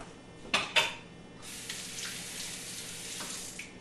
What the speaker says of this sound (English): let me wash my hands here